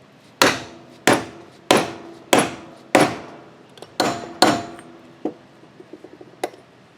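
Seven sharp hammer blows ring out at a steady pace as a trailer wheel bearing is driven into the hub through a block of wood, followed by several lighter, quicker taps.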